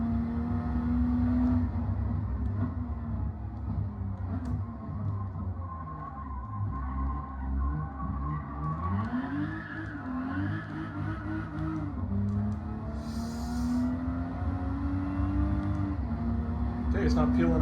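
A car accelerates hard in third gear with the wheels peeling out, its engine note climbing and falling and tyres whirring, loud and close, while people talk over it.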